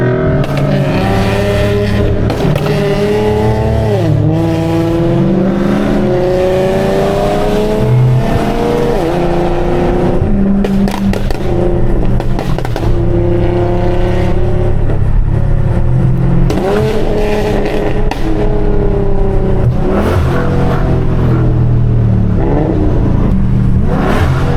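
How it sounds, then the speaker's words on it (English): A car in a street race revs hard, the engine pitch sweeping up and dropping through repeated downshifts and hard accelerations, loud and close throughout with no talk. "My downshift sounds something crazy."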